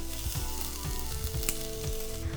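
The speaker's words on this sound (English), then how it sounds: "And you're gonna hear the sizzle." Steady crackling sizzle of chopped onion frying in hot olive oil, close and continuous, with a few soft stirring knocks and scrapes, no voices.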